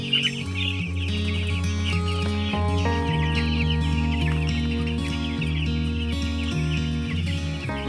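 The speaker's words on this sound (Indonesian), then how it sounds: "Ayamnya jenisnya jenis ayam mabar." A flock of mabar chickens clucking nonstop, many overlapping calls forming a dense, busy chorus nearby.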